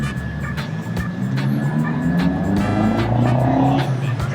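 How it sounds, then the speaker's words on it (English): A car fitted with an RK titanium exhaust idles and blips nearby, a low steady rumble with brief rising revs, heard amid outdoor car-meet ambience with faint voices. "RK titanium exhaust."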